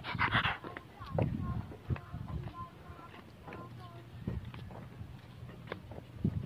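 A dog pants in quick, breathy bursts close by on a morning walk, with occasional soft whimpers and people talking quietly nearby.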